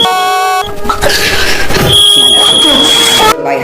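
A smoke alarm sounds indoors with loud, steady electronic beeping tones that start, break off and return, while someone talks loudly over it.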